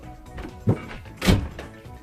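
A jacket and other items fall off the back of a door, giving two soft, dull thuds a little over half a second apart, close by in a quiet room.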